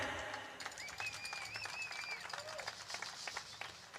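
An audience at a tribute event applauds, a moderate, even patter of clapping with a whistled or sung tone rising through it and a faint voice underneath.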